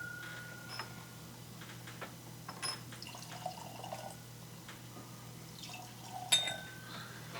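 Lochlea Cask Strength Batch 1 single malt whisky poured from a bottle into glasses at a tasting, soft trickling with light clinks of glass, quiet and close over a low steady background hum.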